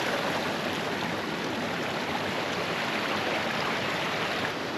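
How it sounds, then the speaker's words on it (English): Waterfall along the Chasm Lake trail in Rocky Mountain National Park, heard as a steady, close, full-bodied rush of falling water that holds even throughout with no voices over it. "Alright, we made it back to the waterfall."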